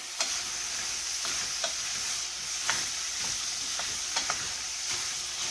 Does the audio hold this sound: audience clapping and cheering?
no